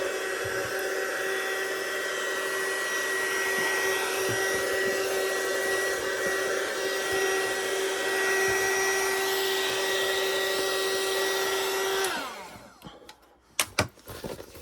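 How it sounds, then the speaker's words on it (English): A heat gun blows steadily inside a bag for about twelve seconds, a continuous loud whirring airflow with a fixed motor whine, then cuts off, leaving a few faint handling knocks and rustles. "I'm going to use my heat gun to warm up the inside of my bag."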